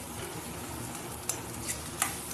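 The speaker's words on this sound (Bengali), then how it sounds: "কড়াইতে একটু ভালো করে একটু লাল লাল করে ভেজে নেবে" Ground cauliflower paste fries in a wok with a soft, continuous sizzle and a few brief stirring scrapes.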